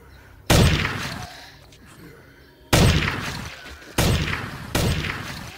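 Gunfire from a weapon in a zombie video game: one sharp shot, then after a pause three more in quick succession, each loud, close and trailing off in a brief decaying tail.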